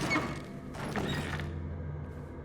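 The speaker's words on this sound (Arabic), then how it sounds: "فتحنا الباب" A door pulled open in the video game Little Nightmares III, a short creaking, grinding mechanical scrape lasting under a second, close and moderately loud over a low steady game ambience.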